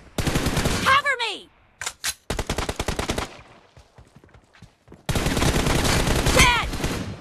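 Bursts of M416 assault rifle fire in a 1v1 shooting video game match, loud and close, with rapid repeated volleys separated by short pauses and a long sustained stretch of automatic fire at the end.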